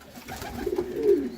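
A pigeon gives a single low, throaty coo that swells toward the end, close by and clear, with no other sounds around it.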